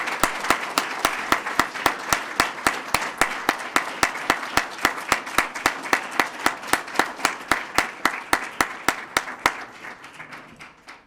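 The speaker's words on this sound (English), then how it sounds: "Let's give them all a round of applause." An audience applauds newly sworn-in police officers at a ceremony, a steady run of sharp, evenly spaced claps that carries on for about nine seconds before fading out.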